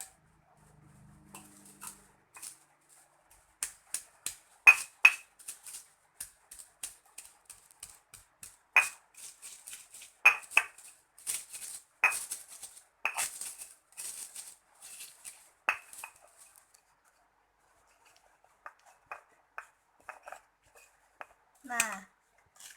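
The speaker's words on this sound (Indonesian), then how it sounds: "kita ulek hingga halus" Chilli and salt are pounded by hand in a mortar and pestle, giving sparse, sharp knocks and grinding taps at an uneven pace. The strikes are quiet and come in short bursts among soft pauses.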